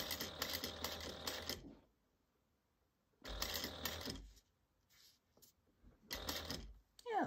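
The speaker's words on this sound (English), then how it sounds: "So we're going to sew that together." A sewing machine stitches the lining and zipper of a pouch in three quiet, rapid bursts of clattering needle strokes, each one to two seconds long, with silent pauses between them.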